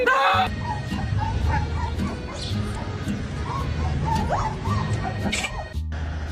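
A dog barks and yelps repeatedly with a few whimpering sounds, close and fairly loud against a busy indoor background, with a clattering crash near the start and voices faintly mixed in.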